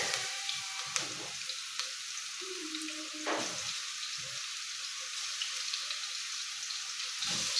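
Garlic hits browned onions frying in a pan, giving a steady soft sizzle with faint scraping and a few clicks of utensils, close but quiet throughout.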